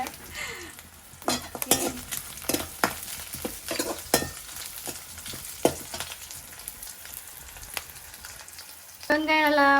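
Onions frying until crisp in a pan for chicken kurma, a continuous sizzle with repeated sharp clicks and scrapes of a spatula, close by, ending with a brief rising tone at the close.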